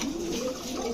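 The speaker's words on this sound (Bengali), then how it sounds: "দেখেন কালো কালার ইংলিশ ফ্যান্টেল কবুতর, বডির চাইতে ওদের লেজ বড় হয়" Black English Fantail pigeons coo in a low, steady murmur, close and clear, with no talk over them.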